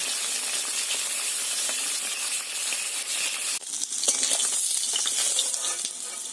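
Pieces of fish sizzling as they fry in hot oil in a pan, a continuous crackling hiss that grows slightly brighter and busier partway through, with small spits and pops.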